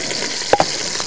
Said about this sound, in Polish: Naprawdę szybkie smażenie, mocny ogień.